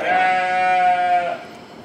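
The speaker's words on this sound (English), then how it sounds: "I don't know how I could sleep with that, with the goats and the sheep." Sheep and goats at a zoo give one long, loud, close bleat with a wavering, strongly harmonic tone, fading out near the end.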